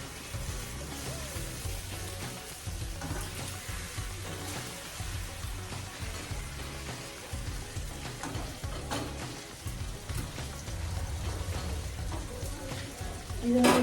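Fish curry masala frying in a pan at home makes a dense, steady sizzle that hisses close by for the whole stretch without pause.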